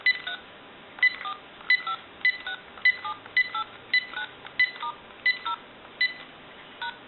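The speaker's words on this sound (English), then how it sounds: "We'll dial out with it." Quick series of touch-tone keypad beeps from a GE cordless telephone handset, about a dozen short dual-tone presses in uneven rhythm, clear and close with no talking.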